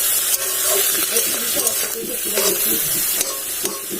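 Leafy greens fry in oil in a pan, producing a continuous close sizzle and hiss with intermittent stirring scrapes throughout.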